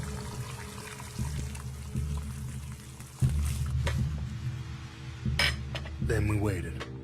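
A meal being cooked brings clattering pots and dishes, clinking cutlery and trickling, pouring water, in uneven bursts of kitchen noise with a voice faintly present.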